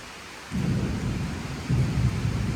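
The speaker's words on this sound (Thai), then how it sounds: "ฝนตกตอนนี้" Heavy rain during a sudden downpour after a hot day, with deep rumbling thunder rolling in twice, loud low booms swelling over the steady hiss of rain.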